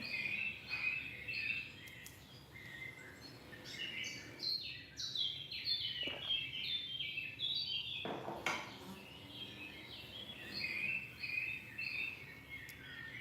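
Several birds sing and chirp continuously in the background, bright overlapping calls with a few sharper clinks mixed in.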